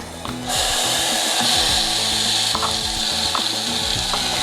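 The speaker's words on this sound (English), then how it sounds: "take a tub of the Better Bean Company beans and then warm them up in a large pot" Better Bean Company beans warming in a large pot over medium to medium-high heat, giving a steady close sizzle and bubbling hiss with faint stirring scrapes throughout.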